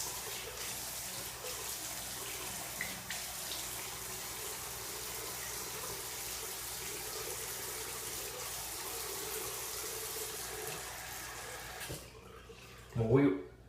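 Warm tap water runs steadily into a sink for wet shaving, a continuous gushing stream that stops near the end before a brief knock.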